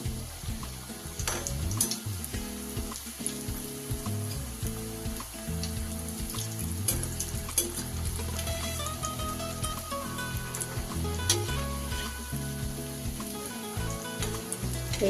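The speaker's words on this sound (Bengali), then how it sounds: "দেখুন কি সুন্দর লাল লাল হয়ে ভাজা হয়ে যাচ্ছে।" Chana dal dhoka, split chickpea lentil cakes, fry in hot oil over lowered gas heat, giving a constant close sizzle with bursts of crackle beneath steady tonal background music.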